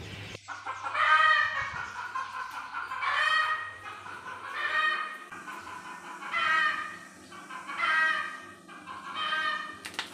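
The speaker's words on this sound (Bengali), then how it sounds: "ওই দেখো ঘরের বাইরে আবার মুরগি ডাকতেছে, রাতা মুরগি বাঘ দিতেছে।" Chickens cluck and a rooster crows repeatedly outside a house, about five long rising calls at a steady rhythm, fairly near and clear, with no talking over them.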